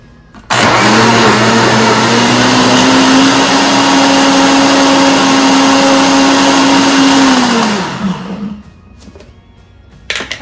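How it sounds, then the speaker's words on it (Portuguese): An old blender whirs steadily as it mixes cake batter with sugar. The motor runs loud and even for about eight seconds, then winds down and stops. "2 xícaras de açúcar, 1 batidinha, né, para não estragar o liquidificador."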